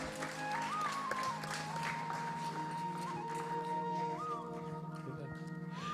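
Applause at a Bengali wedding ceremony after the Pani Grahanam rite, soft scattered clapping from guests beneath sustained tonal music and murmuring voices, fairly distant and low.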